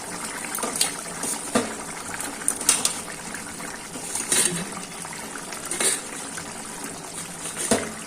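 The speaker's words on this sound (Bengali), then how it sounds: "এবার আমি গরম জলটা অ্যাড করে দেবো অল্প জল দেবো" Hot water is poured into a pan of paneer curry, giving a continuous sizzling, splashing gush close by with small irregular spits and bubbles.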